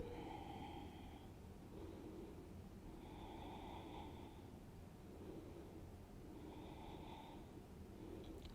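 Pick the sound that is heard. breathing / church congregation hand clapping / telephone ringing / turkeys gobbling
breathing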